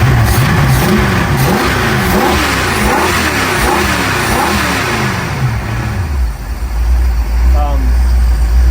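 A 302 engine runs in a restored 1976 Fiber-Form boat, revving up and down in rising and falling sweeps, then dropping to a low steady idle; a voice talks over it.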